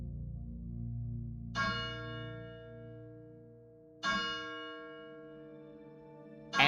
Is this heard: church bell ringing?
yes